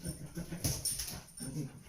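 A pet dog splashing and lapping around in its water bowl indoors, close by, with wet slurping and snuffling in short irregular bursts and a whimpering note.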